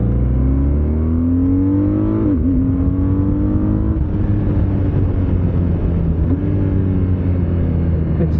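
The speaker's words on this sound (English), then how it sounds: "Once you get to hear the engine roar, it sounds good." A BMW R12 nineT motorcycle engine roars steadily and loud, its deep rumble rising in pitch through revs with brief dips like gear changes, close and alone without talk.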